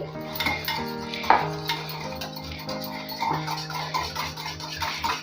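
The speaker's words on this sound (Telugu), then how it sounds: "పెరుగు యాడ్ చేసిన తర్వాత గడ్డలు లేకుండా బాగా బీట్ చేసుకోవాలి" Half a cup of yogurt is beaten in a bowl to a smooth, creamy texture, with a rhythmic run of close clinks and scrapes of a utensil against the bowl.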